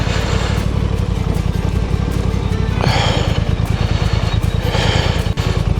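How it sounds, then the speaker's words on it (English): A motorcycle carrying a load drones loudly and steadily while engine braking without the clutch, its pitch shifting slightly as the bike rolls downhill, with wind rumble throughout. "You can hear the engine braking."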